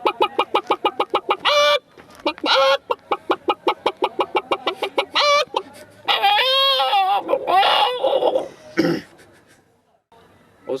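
A voice imitates a clucking hen with a long run of rapid, rhythmic clucks, then a rising squawk and a few final clucks, close and loud.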